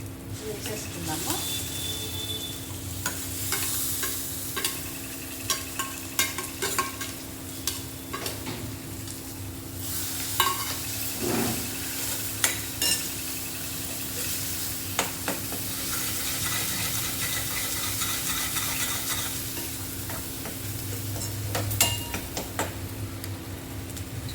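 Cumin, turmeric and green chillies sizzle in a pan for a tempering, a low continuous fry broken by frequent light ticks and stirring scrapes, with occasional faint background voices.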